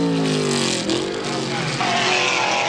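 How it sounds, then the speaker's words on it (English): A loud 1981 IMSA race car engine, a Camaro, at Brainerd, drops in pitch as it decelerates for a turn, downshifting audibly from fourth to second gear, the roar continuing steadily throughout. "that car is deaccelerating. It's going from fourth gear down to second gear for that turn"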